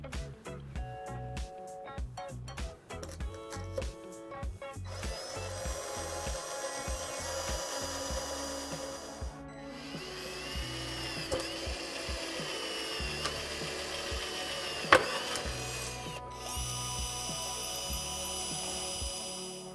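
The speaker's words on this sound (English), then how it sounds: "we're gonna pre-drill all of the holes" A power drill pre-drills pilot holes into wood for mounting pergola blinds, whining in short bursts and then longer runs, with clicks and handling sounds in between.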